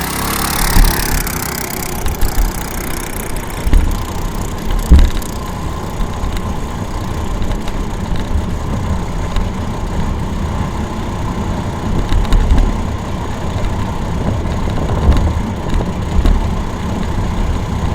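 A customized Tao Motor Baja Sprinter Ghost engine revs under changing throttle while riding over bumps, a steady, close, rough drone with brief surges and jolts throughout and no talking.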